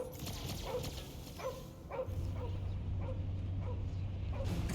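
Cosmo, a dog in the Guardians of the Galaxy video game, gives a string of short, pitched whimpers and yips at steady intervals, moderately near, over a low droning score and background rumble.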